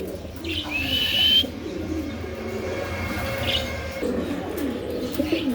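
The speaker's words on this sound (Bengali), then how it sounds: "4 পিস কবুতর, কালো ডেনিস আর হলো যে হলুদ ম্যাকপাই ডেনিস" Black Danish and yellow Magpie Danish pigeons coo softly at a home pigeon farm, low murmuring calls with a few brighter chirps, fairly faint and without speech.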